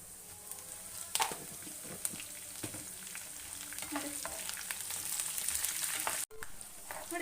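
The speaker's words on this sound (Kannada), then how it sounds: "ಕಡಲೆಬೇಳೆ 1 ಸ್ಪೂನು ಇಲ್ಲಿ ಒಗ್ಗರಣೆಗೆ ಹಾಕ್ತಾಯಿದ್ದೀನಿ" Chana dal frying in oil for a tempering with curry leaves, a soft, steady sizzle and crackle from a pan close by, with faint stirring clicks and a brief dropout near the end.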